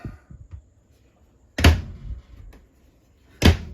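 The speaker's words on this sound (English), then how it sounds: "All these doors have nice secure latching features." Camper cabinet doors with latches bang shut twice, each a loud, close wooden thump with a rattling tail, with light clicks and handling noise before the first one.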